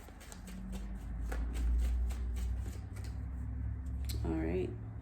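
A tarot deck is shuffled by hand, giving soft riffling and sliding card sounds with a few sharper snaps. A voice murmurs faintly underneath, and a brief squeak comes near the end.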